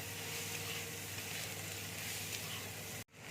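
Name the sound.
turmeric and coriander powder sizzling in frying pan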